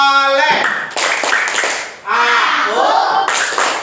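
Children at an Indonesian Islamic lesson clap their hands in rhythm while chanting the 'tepuk anak soleh' clapping chant, with bursts of crisp, loud claps between and under their sung voices.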